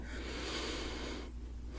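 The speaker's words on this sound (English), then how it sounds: "Okay, we're going to take a deep breath in." A close, airy deep inhale during an ASMR medical exam roleplay, a soft continuous rush of breath that tapers off near the end, heard alone without talking.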